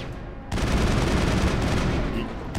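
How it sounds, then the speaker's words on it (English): Video game gunfire from Mass Effect Andromeda, a dense burst of rapid automatic shots that starts abruptly and continues as a loud, sustained volley. "Who's shooting?"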